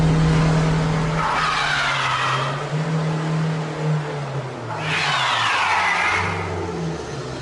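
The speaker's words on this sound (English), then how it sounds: "This is what happens when the traction control is switched off." A car skids across sheet ice with traction control switched off, its engine droning steadily while two long tyre-skid bursts swell and fade, loud and close, with no talk.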